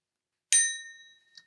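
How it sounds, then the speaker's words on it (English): A single bell rung once to mark a photography competition winner: a sharp metallic ding with a long ringing decay that fades over about a second, followed by a faint click. "So I'm going to ring the bell"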